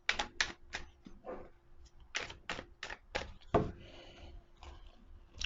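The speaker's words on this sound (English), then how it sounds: "2 more shuffles." Quiet sharp riffling and tapping bursts of cards being shuffled, several quick runs with short pauses between them, close by.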